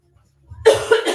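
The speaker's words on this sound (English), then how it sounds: "Excuse my cough." A woman's cough breaks out mid-session in an exercise class, a few harsh close bursts after near silence, loud and dry in a quiet room.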